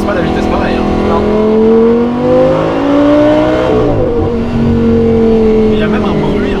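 An Audi R8 V10 engine revs hard at high rpm, its rising and falling tone climbing through gear changes, loud and near, while people talk over it.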